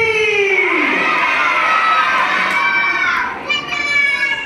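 A group of children at a birthday party game shout and cheer together loudly in a sustained chorus that tapers off, followed by scattered voices.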